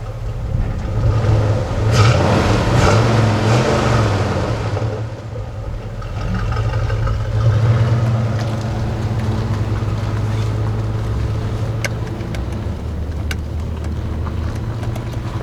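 Solid axle swapped Dakota pickup truck on a test drive in rear wheel drive only, missing its front drive shaft; a steady engine drone with rising revs near the start, heard from inside the cab with no talking.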